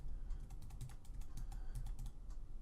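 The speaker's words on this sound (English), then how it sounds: "if I hold the Shift key and hit plus on the keyboard" Keys tapped on a computer keyboard while Shift is held and plus is pressed repeatedly to cycle through options, giving a quiet, steady run of soft clicks that fills the whole stretch with no voice.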